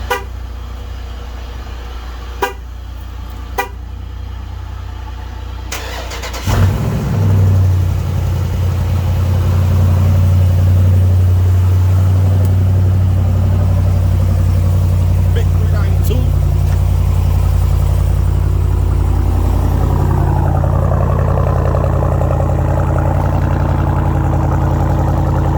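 A Chevy Impala or Buick Riviera is cranked: a few sharp clicks and brief horn toots give way to the engine catching, then a loud steady idle drones on for many seconds while someone talks over it.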